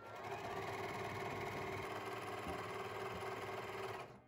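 Close, steady whir of a sewing machine running continuously as it sews the shoulder and side seams of a ruched high-neck top, an even mechanical hum with rapid needle ticking that stops near the end.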